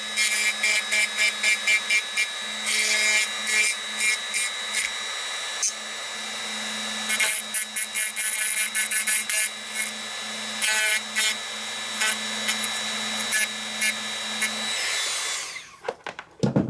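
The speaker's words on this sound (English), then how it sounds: "I'm going to use a Dremel with a ball end cutter on it, and I'm just going to go in there and carefully trim around the edges" A Dremel rotary tool with a ball end cutter trimming the edges of a model dome, whining steadily at high pitch in repeated bursts as it cuts, up close and with no talk.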